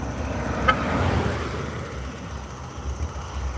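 A car rolls past on a road in the morning, a steady broadband rumble of engine and tire noise with a brief sharp tick near the start, moderately close.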